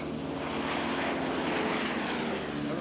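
A light propeller plane in flight makes a steady, close engine drone with a rushing roar that holds even throughout, with no voices.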